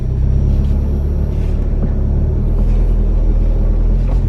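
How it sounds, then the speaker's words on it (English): A car reverses slowly while parallel parking beside another car, its engine a steady, close, low rumble that holds evenly throughout with no talking. "I'm gonna hit it in reverse, and I'm gonna use the camera"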